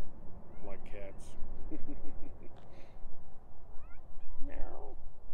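A cat meows a few times around a homestead, short wavering calls spread across the clip over steady outdoor background noise, with a voice heard near the end.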